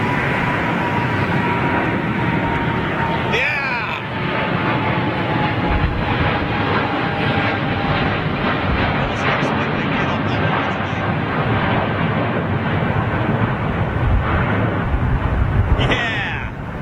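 A jet airliner aborts its landing and goes around on Heathrow runway 27R in strong wind, a loud continuous engine roar rising over gusty wind noise while someone talks over it.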